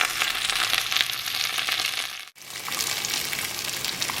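Peppers sizzling and starting to char in a frying pan, a dense, steady crackling hiss with a brief dropout midway before the frying noise resumes at the same close, even level.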